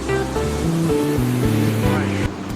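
Yogurt mixture poured into hot mustard oil in a pan bursts into a loud, continuous sizzle that rushes and hisses steadily for a couple of seconds, close and dominant.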